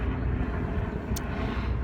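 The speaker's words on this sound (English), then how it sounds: "there's a helicopter going over" A helicopter passes overhead, a steady low rumbling drone that holds through the whole moment, fairly loud and continuous with no talk over it.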